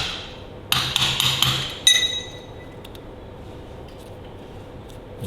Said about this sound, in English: So I just need an hammer, little hammer.